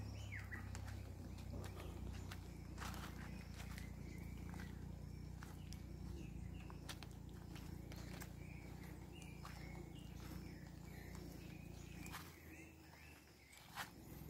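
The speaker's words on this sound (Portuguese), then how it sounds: "Você só escuta o canto do passarinho" Quiet forest ambience with scattered bird chirps and calls at a distance, faint and irregular throughout.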